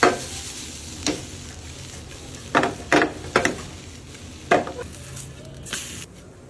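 Chicken roll filling with chopped coriander is stirred in a pan, a series of sharp scraping strokes of a spoon against the pan over a low, steady sizzle.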